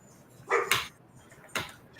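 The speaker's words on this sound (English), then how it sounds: "The dogs are going to be having a fit." Dogs barking a few times at moderate distance, two quick barks followed by another after a short pause, over a quiet indoor background.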